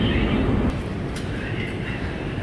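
An underground metro train in Novosibirsk, a loud low rumble and rolling clatter of the carriages that drops slightly after the first moment and then runs on steadily.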